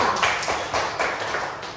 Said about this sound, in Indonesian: Oke, tepuk tangan untuk bisa.